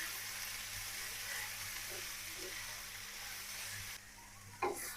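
Red amaranth greens (lal shak) frying with onion and garlic in a pan, a continuous close sizzle and hiss with faint stirring, quieting near the end before a brief scrape.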